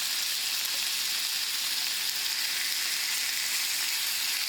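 Meat for chili colorado searing in a hot pan, a loud, even, continuous sizzle that holds steady from start to finish, close up with no talk.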